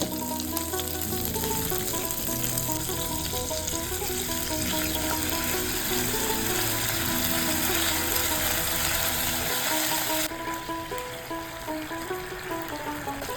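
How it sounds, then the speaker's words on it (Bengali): Homemade chilli sauce hits hot oil already holding garlic, ginger and green chilli for Bhetki chilli fish, giving a steady loud sizzle and frying crackle that continues throughout, easing slightly near the end. "রসুন, আদা, কাঁচা লঙ্কা দিয়ে একটু নেড়ে চেড়ে তারপরে বানানো সসটাকে আস্তে আস্তে ঢেলে দিলাম"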